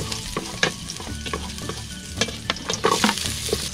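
Garlic and onion sautéing in a pan, a bright continuous sizzle broken by irregular scraping stirs and clanks of the spatula, close and fairly loud with no talking.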